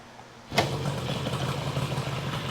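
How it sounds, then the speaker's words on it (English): A 1972 Yamaha LS2 motorcycle engine catches abruptly after a quiet start, then settles into a steady, close, putting idle with no talking. "784 mile motorcycle. I mean, that engine sounds good. Took a couple of kicks to start it up"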